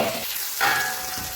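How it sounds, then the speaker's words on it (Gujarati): Ground tomato chutney hits a hot pan and is stirred, producing a short, dense hiss of frying with a brief swell of sizzle midway. "બધી ચટણી આમાં એડ કરી નાખશું અને સારી રીતે એને મિક્સ કરી નાખશું"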